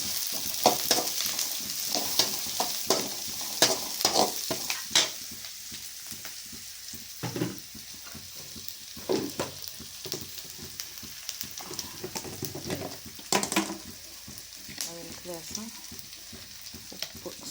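Crushed green chilli and garlic hit a hot pan and fry with a crackling sizzle, punctuated by repeated stirring scrapes and clatters of a spoon, close and moderately loud throughout.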